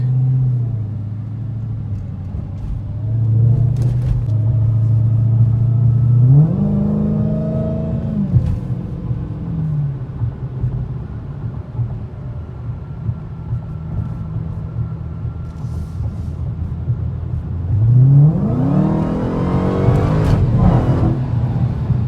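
A stock Mohawk off-road vehicle with a misfiring cylinder is driven hard, its engine close and loud, rising in two strong revs between steady rumbling stretches and with no talk.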